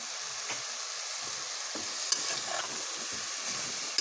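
Ground meat being stirred and fried in a pot, with soft scraping stir strokes over a quiet continuous sizzle, fairly faint and with no talking.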